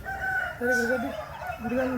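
A rooster crows twice in close succession at a poultry market in Vijayawada, loud and near, each call a rising, drawn-out cock-a-doodle-doo.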